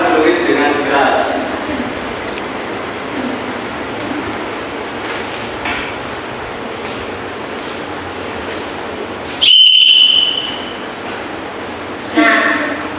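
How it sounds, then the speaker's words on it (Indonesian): A whistle is blown loudly in a primary school classroom, one sharp shrill blast after a stretch of talking and room noise, then another brief burst moments later. "Kegiatan satu yaitu tiuplah peluit dengan keras."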